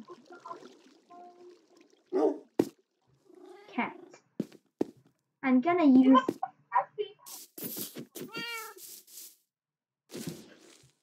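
Cats in a video game meow and wail, several sharp mewing calls mixed with bursts of game noise, while a young player talks in between and over them.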